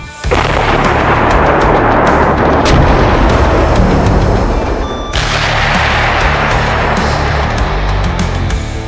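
An amphibious self-propelled artillery gun fires with a deep booming blast, followed by a long rumbling roar and a second loud report midway, close and powerful.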